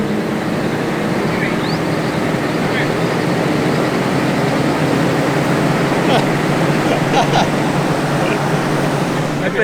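A forestry mulcher's engine roars steadily and loudly throughout, a broad continuous machine drone with no breaks, while a voice is faintly audible beneath the noise.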